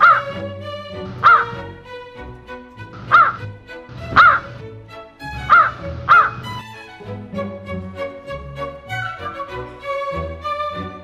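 A crow cawing loudly and close, about six harsh calls spaced a second or so apart, followed by softer layered tones, with no one speaking.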